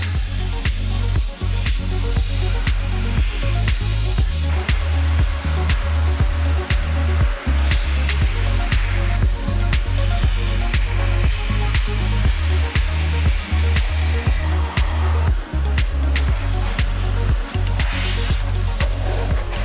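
A Metrovac SK-1 Air Force Blaster Sidekick air dryer runs close and loud with a continuous rushing roar of air, with frequent short gusty pulses and surges throughout.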